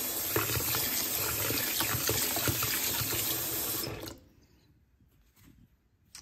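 Hot water pours steadily from a tap into a sink with a little dish soap in it, for soaking a vintage cloth feed sack. The rush is close and constant for about four seconds, then the tap shuts off, leaving near quiet.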